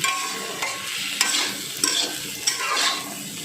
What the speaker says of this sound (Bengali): হলুদের গুঁড়ো দিয়ে দিলাম আর ভেজে রাখা চিংড়ি মাছ দিয়ে দিলাম দিয়ে ভালো করে আমি নাড়াচাড়া করে নিচ্ছি